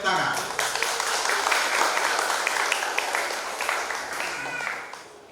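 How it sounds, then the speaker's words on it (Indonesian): Guests at an Indonesian wedding ceremony applaud right after the first kiss, a lively burst of many hands clapping that swells early, holds, then thins out toward the end, with voices mixed faintly underneath. "Oke, tepuk tangan."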